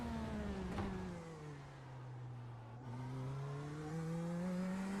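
A race car engine in the iRacing sim drones close and steady. Its pitch dips as the car lifts off, then climbs again under power, with no voices.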